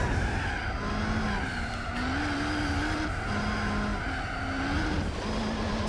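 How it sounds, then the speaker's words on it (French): Race car tires skidding and squealing in the video game Gran Turismo 4 on the World Circuit Tour, a steady wavering squeal over continuous engine roar, loud and unbroken for several seconds. "C'est la voiture à train de patiner."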